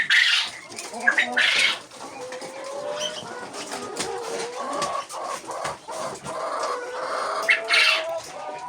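Quail hens cluck and chirp in a coop, a young laying flock: soft, close, overlapping calls with brief sharper bursts, continuing steadily without any talk.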